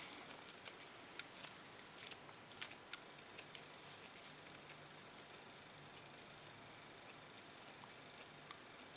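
Scissors thinning out the hair of a short pixie cut snip quietly and close in quick irregular clicks, a steady run of small metallic cuts against a faint hiss.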